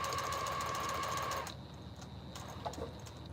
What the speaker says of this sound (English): when I'm sewing now without an audience, I just sew.